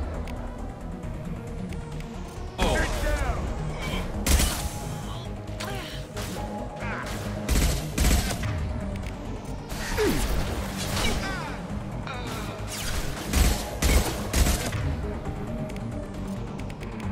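A heavy weapon fires with explosions in the Mass Effect video game. Repeated loud blasts and crashes come in bursts over steady game background noise, with a few louder impacts near the end.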